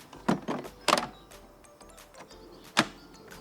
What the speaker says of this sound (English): here's the battery, and you just push to click